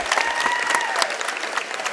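Loud, steady applause and crowd noise fill a packed high school gym in Albany, Kentucky, after a made free throw late in a close Pickett County versus Clinton County basketball game.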